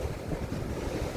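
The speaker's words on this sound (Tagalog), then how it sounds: "Magandang alon pero hindi magandang mag-surf ngayon." Ocean surf rolls in at a surf camp ahead of a super typhoon, a steady broadband wash of breaking waves mixed with gusty wind buffeting the microphone, continuous and fairly loud with no voices.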